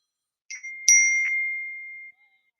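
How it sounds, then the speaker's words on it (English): A phone notification chime rings out alone, a clean electronic ding followed by a brighter second tone that rings steadily and then cuts off, nearby and clear against silence. "Let me answer this phone call."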